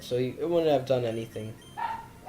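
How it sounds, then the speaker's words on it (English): A pet dog named Smokey barks and yips in the background at home while someone talks over it, the short barks partly tangled with his speech. "if you hear that barking, that is my dog Smokey"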